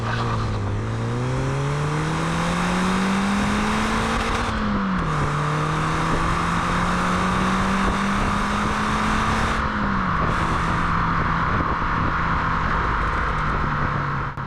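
A 1997 Ford Racing Puma engine revs while driving on a road, climbing through the gears in two rising pulls with brief dips at each shift, then holding a steady cruising drone; loud and continuous with no talk.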